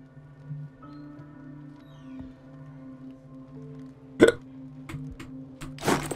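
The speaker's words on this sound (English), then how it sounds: "I get really violent hiccups." Violent hiccups from a man, two sharp loud bursts standing out over a steady low game soundtrack hum, with a few smaller catches in between.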